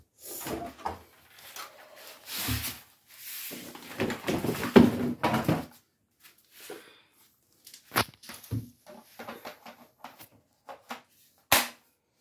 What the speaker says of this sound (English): Give me my nail gun.